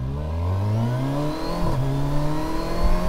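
An adventure motorcycle with a quick shifter accelerates, the engine note rising steadily before a sharp cut and drop at a gear change, then pulling again, close and fairly loud.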